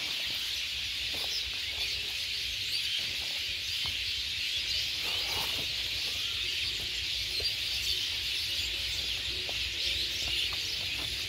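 Many birds call and chirp together in a Bangladeshi garden, a dense, fairly faint chorus with occasional clucks and wing flaps.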